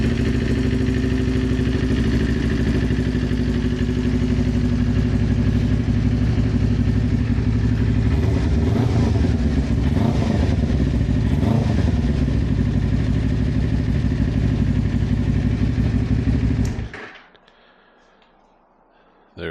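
A cold Kawasaki Ninja 250R motorcycle engine idles steadily and loudly with a dense mechanical clatter, running without choke for about seventeen seconds before cutting off into near silence.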